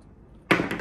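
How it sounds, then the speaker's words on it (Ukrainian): Scissors snip through tape in one sharp cut, close and clear after a brief quiet moment. "Беремо ножиці"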